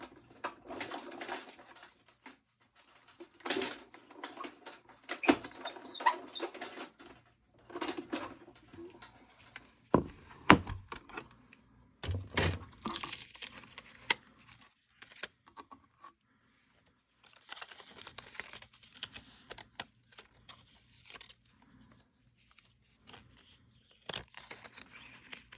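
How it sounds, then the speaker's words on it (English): A cut and emboss machine die-cutting a birdhouse shape for a card, heard as close, intermittent cranking, crinkling and rattling bursts separated by brief pauses, quiet and with no voice. "I'm going to step over to my cut and emboss machine and go ahead and cut the"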